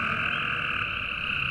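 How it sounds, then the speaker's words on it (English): Cope's gray tree frogs call together in a steady, dense trilling chorus, several males overlapping continuously with no pauses, loud and close. "these are the Cope's gray tree frogs as opposed to the regular common gray tree frogs. And you can hear them all giving their calls"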